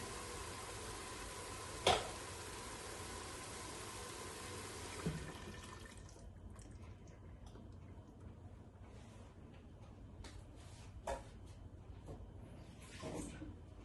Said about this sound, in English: just to rinse the blender out a bit